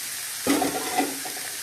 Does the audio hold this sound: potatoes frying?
yes